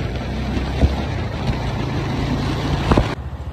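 A TVS motorcycle engine running during a test ride, a steady droning hum with a few sharp knocks before the sound thins out near the end.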